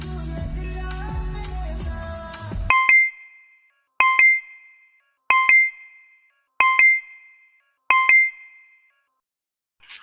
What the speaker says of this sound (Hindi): ये नोटिफिकेशन बार बार आके मेरा दिमाग खराब कर रहे हैं।